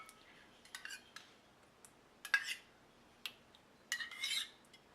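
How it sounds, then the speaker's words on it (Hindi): A spoon clinks and scrapes in a bowl while curd is mixed into maida flour for bhatura dough, giving sparse, faint metallic taps and short rustling strokes against near silence. "दही को भी मैंने मैदे के साथ अच्छे से मिक्स कर दिया है।"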